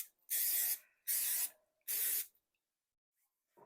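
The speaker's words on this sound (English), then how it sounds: "I'm going to spray our pans with some cooking spray." Three short, evenly spaced bursts of cooking spray hiss onto baking pans, each about half a second long, close and crisp, followed by silence and a faint clink.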